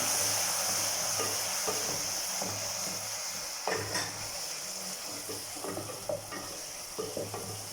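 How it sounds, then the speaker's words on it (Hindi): Ginger-garlic paste fries in a pan with a steady, bright sizzle and hiss. Close spoon stirs and scraping clicks cut in now and then. "2 चम्मच अदरक लहसुन का पेस्ट डालूंगी और इसे अच्छी तरह फ्राई कर लूँगी।"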